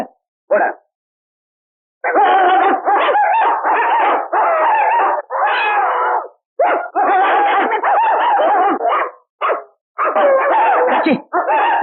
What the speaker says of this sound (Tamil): நாலஞ்சு நாயை கட்டி வச்சு கொலைக்க விட்டு